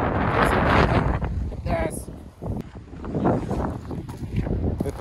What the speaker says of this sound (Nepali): साँच्चीकै हावाले चाहिँ उडाएरै लग्ला जस्तो भइरहेको छ है